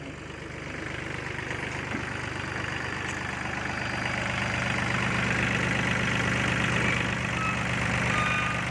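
A car engine idles steadily up close, a low, even rumble with a faint rhythmic chug that swells slightly louder midway and holds.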